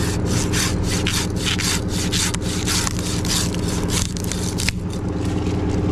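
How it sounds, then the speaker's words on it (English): Handsaw working through oak wood, a loud, steady back-and-forth rasp of rapid close strokes that continues without a break. "people talk about how cutting with your handsaw is such a chore."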